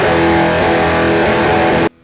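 A distorted electric guitar roars through a Quad Reverb amp in a live room, one dense sustained chord, loud and saturated, cutting off abruptly near the end.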